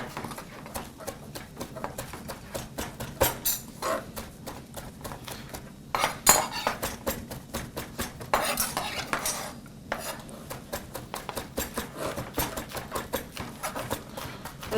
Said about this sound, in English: This knife is not liking the slice.